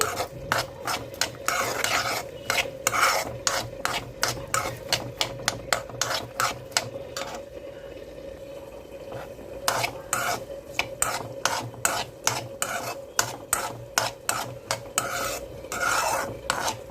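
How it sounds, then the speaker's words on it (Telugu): Peeled garlic cloves frying in hot oil for a pickle, a steady sizzle under a rapid, rhythmic series of scraping stirs against the pan, with a short pause midway. "ఆయిల్ వేడవింది వెల్లుల్లిపాయలు ఇందులో వేసుకుందాం"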